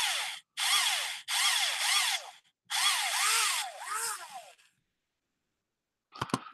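A power drill whirs in several bursts of rising and falling speed, pausing briefly between runs, then a couple of sharp clicks after a short silence.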